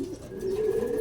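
A pigeon coos in a loft, a single low, soft, drawn-out call heard close and alone.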